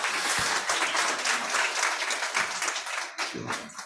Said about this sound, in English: Once a big round of applause for him.